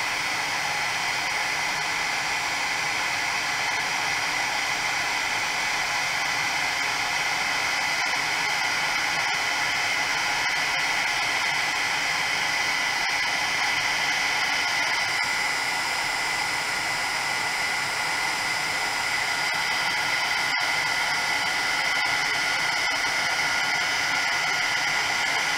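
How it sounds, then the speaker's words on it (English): A Martha Stewart heat gun runs steadily close by, melting embossing powder on a card: a constant, loud blowing hiss with a faint whine that holds for the whole stretch without pause or speech. "the noise of the heat gun."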